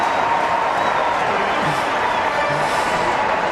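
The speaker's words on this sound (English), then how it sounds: "And gets the crowd up on their feet." A large crowd roars at an Australian football match as a player sends a long kick home, a loud, continuous stadium swell of cheering and clapping with no break.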